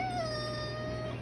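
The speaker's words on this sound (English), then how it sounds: "teach your cat to sit" A cat gives one drawn-out, slightly falling meow lasting over a second, fairly quiet, with a low steady hum beneath and no speech.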